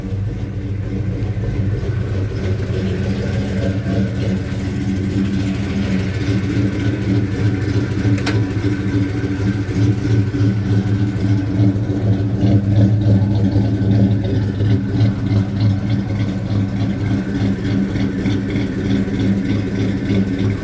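A 1984 Chevy C10 pickup with a 350 V8 and a mild cam idles steadily after a cold start, a close, loud, even rumble with a faint whir over it and no one talking.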